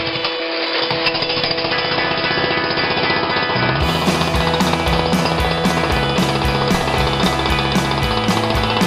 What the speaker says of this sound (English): we're going to be jackhammering that up right now and getting down there and exposing the pipe